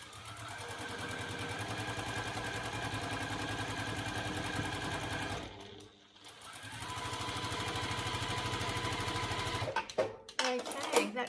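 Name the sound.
sewing machine stitching bias-cut quilt pieces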